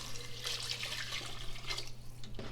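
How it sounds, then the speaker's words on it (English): Water pours steadily into a pot while making pasta e fagioli soup, a continuous broad splashing rush that runs close and fairly loud, with no talking over it. "I'm just going to add some water and then add the rest of the ingredients"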